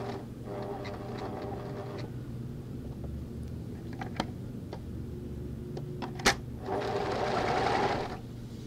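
A sewing machine stitches knit dress fabric in short runs with pauses, its motor hum and needle rattle steady and close, then speeding into a louder, longer burst near the end; no talking.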